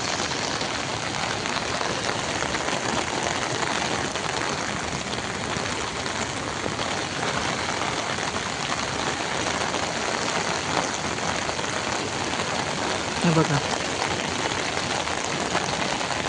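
Heavy monsoon rain pours down on a July evening over farmland, a dense, continuous roar of falling water that stays loud and even throughout, with a brief spoken remark near the end.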